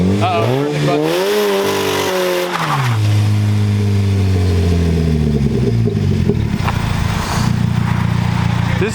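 A car nicknamed SlowBalt doing a burnout, its engine loud and close as it revs up, dips, then holds a high strained roar over a continuous rush of spinning tires.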